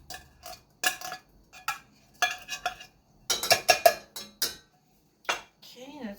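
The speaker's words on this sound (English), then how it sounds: "now we're going to add in 2 cans of minced clams" Minced clams scraped out of two cans into a pot of broth for clam chowder, heard as sharp metallic clinks and scrapes in uneven bursts, close and fairly loud, with a brief voice near the end.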